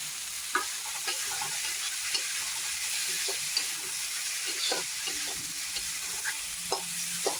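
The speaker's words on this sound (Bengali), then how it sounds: "ভালো করে ভেজে নেব রসুনটা দিয়ে একটু ভালো করে ভেজে নেব" Onion and garlic fry in oil while being stirred, giving a steady close sizzle and hiss with occasional scraping clicks from the stirring throughout.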